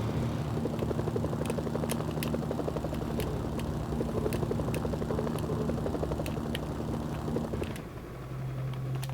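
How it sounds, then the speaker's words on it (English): Steady rapid thumping of video game helicopter rotors from Mercenaries: Playground of Destruction, loud and continuous with a mechanical whine, then abruptly dropping away near the end. "A little helicopter army coming to investigate."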